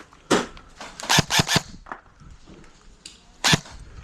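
Airsoft guns firing during an outdoor airsoft game, with a sniper shooting from the far side: about half a dozen sharp, fairly close pops, three in quick succession, then a pause before a final crack.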